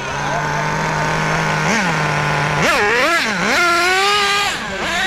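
An HPI R40 nitro RC car with an OS 12-turn engine idles with a steady buzzing drone, then revs sharply several times in rising and falling bursts, loud and close, with a person's voice audible alongside.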